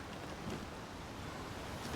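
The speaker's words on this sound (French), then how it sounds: "Il y a une cascade là aussi." Steady rushing waterfall in The Legend of Zelda: Tears of the Kingdom, a broadband hiss that holds even and continuous throughout, with no voices.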